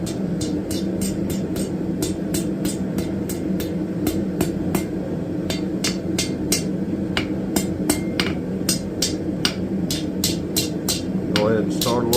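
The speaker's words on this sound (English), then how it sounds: "Just go right over the side of the anvil and start curving" A hammer strikes hot steel on an anvil, curving a scroll end for a forged camp table, ringing out in a steady, fairly quick series of close metallic blows over a continuous background hum.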